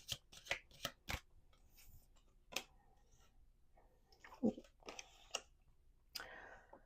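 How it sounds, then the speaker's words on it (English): Crisp riffling bursts of tarot cards being shuffled, several quick clicks followed by sparser flutters, soft and close in a quiet room. "Let's do 2 more shuffles."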